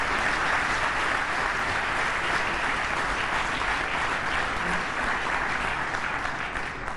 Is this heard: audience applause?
yes